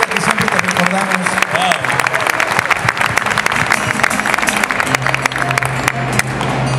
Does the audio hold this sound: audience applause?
yes